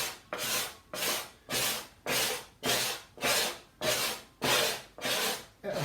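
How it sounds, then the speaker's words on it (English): A scraper works across the spruce top of a handmade violin in eight rhythmic rasping strokes, about one per second. Each stroke is a close, dry scrape with short pauses between them. "the way I do that is with the scraper."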